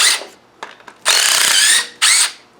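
Battery power tool whirring in short bursts while removing bolts from a Land Rover LT230 gearbox, with a couple of long spins and a brief one, close and loud with small clicks between.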